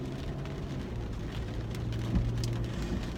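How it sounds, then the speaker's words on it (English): Steady rain drums on a car in Northwest Indiana with the wipers running, a dense, even wash of noise heard from inside the vehicle, with one slightly louder thump near the end and no talking. "excuse the noise because it is raining here in Northwest Indiana"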